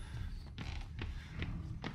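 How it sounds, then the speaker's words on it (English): Repeated creaky screeches in the horror game Outlast, roughly four sharp bursts at even intervals over a low rumbling ambient background, moderately faint. "Oh, this screeching is annoying."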